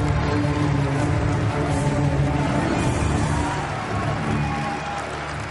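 Sustained applause and crowd noise from a large audience at the 2014 Pokémon World Championships finals, steady and dense, easing slightly toward the end.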